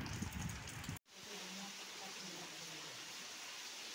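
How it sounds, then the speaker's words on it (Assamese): Steady rain falls outside on a wet day, a faint, even hiss that cuts out for a moment and then carries on unbroken. "আজি দিনটো চাওক কেনেকুৱা বৰষুণ দি আছে।"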